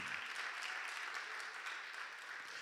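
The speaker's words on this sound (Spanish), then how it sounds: "Denle un aplauso a Dios, un aplauso grande." A church congregation breaks into applause, a steady, even wash of clapping heard from a distance at low volume.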